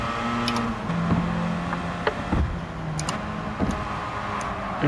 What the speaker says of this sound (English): Downshifting to 3rd gear to keep the rotation.